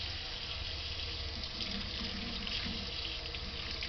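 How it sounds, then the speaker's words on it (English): Warm water runs steadily from a kitchen tap into a sink being filled with dish soap for washing dishes, a continuous close splashing gush with no speech. "I'm gonna put some dish soap water in the sink so I can wash up these dishes"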